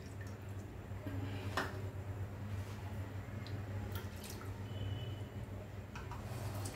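About one and a half small bowls of water poured into a pan on a gas stove for thalipeeth, a faint steady trickling splash with a low hum beneath, heard close and without talk.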